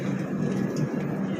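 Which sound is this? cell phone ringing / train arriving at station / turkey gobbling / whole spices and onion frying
train arriving at station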